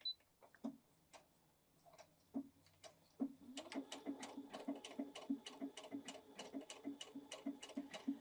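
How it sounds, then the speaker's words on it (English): A BabyLock Jubilant BL80B sewing machine stitches fabric: a few hesitant starting clicks, then a rapid, even train of needle ticks at close range, with no talking. "Let's see what that looks like as it's stitching."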